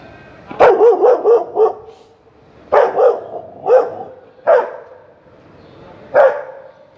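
A dog barks close by, first a quick run of four or five barks, then single barks spaced out over several seconds.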